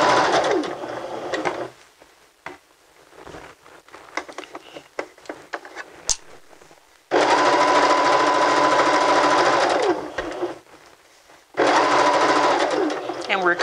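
A sewing machine stitches fabric layers in loud, close bursts of rapid whirring, stopping and starting twice, while a person talks during the quieter gaps between runs.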